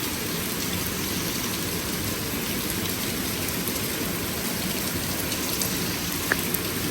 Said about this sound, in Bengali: এই যে দেখছেন বৃষ্টি এটা কিন্তু বাংলাদেশে না এটা কিন্তু আমাদের ফ্রান্সের তুলুজ শহরে হচ্ছে বৃষ্টি